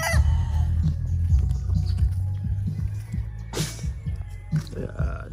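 A claret rooster clucks close by in short throaty bursts over a steady low rumble, with a couple of sharp louder calls near the end.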